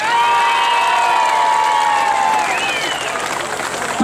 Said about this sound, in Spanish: ¡Aplausos para pareja número 4!